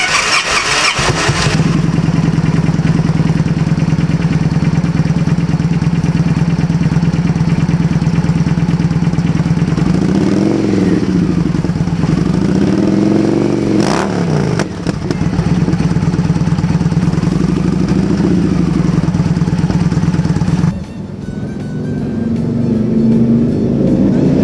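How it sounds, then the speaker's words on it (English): A Victory Kingpin motorcycle with Indian-inspired exhausts starts up and idles with a deep, loud, throbbing exhaust rumble, revving briefly a couple of times before cutting off near the end. "the exhausts really sound good"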